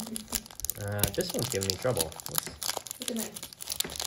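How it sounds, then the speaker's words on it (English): A cat climbs into an oversized plastic bag from a dollar store, the thin plastic crinkling and rustling in loud bursts under a person talking. "That is my cat climbing into a plastic bag."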